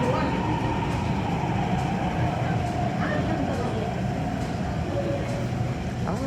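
An MTR C-train at Ho Man Tin Station, one of three in a row, fills the platform with a steady, loud rumble and rolling wheel noise throughout, with faint chimes and distant talk mixed in.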